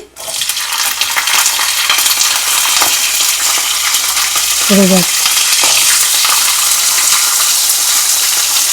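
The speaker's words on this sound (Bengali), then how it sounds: "এবার আলু দিচ্ছি" Loud, dense sizzling of potatoes hitting hot oil in a pan, continuing steadily after a sharp start, with a brief metallic clink in the middle.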